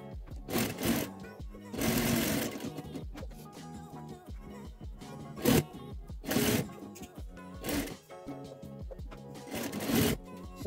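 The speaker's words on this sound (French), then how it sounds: "je vais venir coudre des 3 côtés" A sewing machine stitches pockets onto a child's backpack in several separate bursts of rapid mechanical whirring, close and steady, separated by short pauses.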